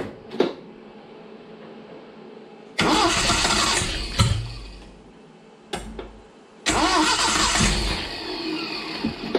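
A restored 1970 Datsun 521 truck engine is being started for the first time, with two cranking attempts that each catch and run loudly and roughly before cutting out, separated by brief quiet.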